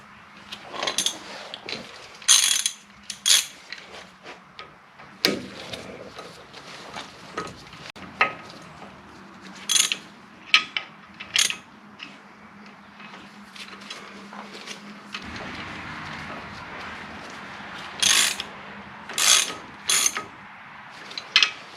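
A ratchet spins lug nuts onto the hub of an '86 Ford diesel Ranger 4x4, giving repeated bursts of sharp, close clicking with short pauses and light handling clatter in between.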